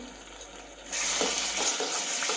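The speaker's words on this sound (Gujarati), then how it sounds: "ટામેટા અને ડુંગળી સરસ એવા અંદર તેલમાં શેકાઈ ગયા છે" Onions and tomatoes fry in oil in a pan, a soft hiss that bursts into loud, steady sizzling partway through, close up with no talking.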